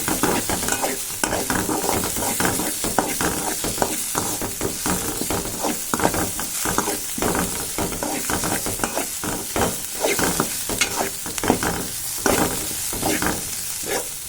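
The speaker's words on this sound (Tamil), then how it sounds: "இது எல்லாத்தையும் சேர்த்து தக்காளி எல்லாம் நல்லா நம்ம வதக்கி எடுத்துக்கலாம்." Tomatoes and onions with curry leaves and green chillies sautéing in a pan for egg masala, with a continuous loud sizzle and dense, rapid, repeated stirring scrapes close up throughout.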